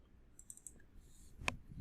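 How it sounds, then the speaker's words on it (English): A computer mouse is double-clicked, giving faint, quick, light clicks in a short cluster close by on a near-silent background. "I'm just going to go ahead and double click on the event."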